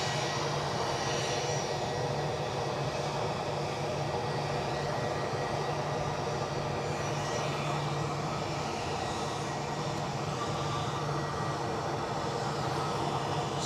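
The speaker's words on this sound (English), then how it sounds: "let's have a closer look at this very natty Cessna 525B Citation CJ3 Plus" A Cessna 525B Citation CJ3 Plus business jet at Edinburgh airport gives a steady, dense engine hum and whine that stays at an even level throughout, with no voices.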